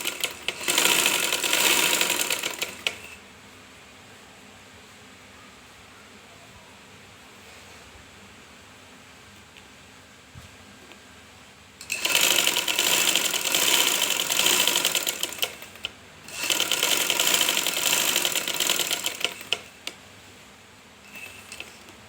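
A sewing machine stitches over folded fabric strips in three loud bursts of rapid whirring, separated by quiet pauses in which the motor is stopped, with no voices.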